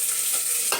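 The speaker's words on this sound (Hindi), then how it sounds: "और अब मैं इसमें डालूंगी ये प्याज।" Onion hits hot oil with cinnamon and bay leaf, a close, bright sizzle that holds steady for under a second before a sharper burst of spitting near the end.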